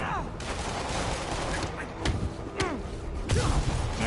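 Gunfire in the Spider-Man video game on Ultimate difficulty, heard as sharp bursts and repeated shots over a dense, busy game soundscape.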